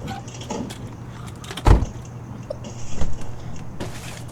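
Exiting a car in the video game Hello Neighbor Alpha 2: a single sharp door thud stands out near the middle over a low steady hum, followed later by a softer second knock and faint shuffling.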